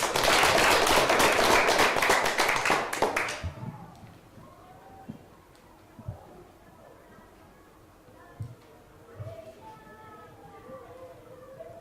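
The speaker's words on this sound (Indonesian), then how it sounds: "Tepuk tangan dulu" Classroom audience clapping in a loud, dense burst that stops abruptly after about three seconds, followed by quiet room tone, a few stray taps and a voice speaking.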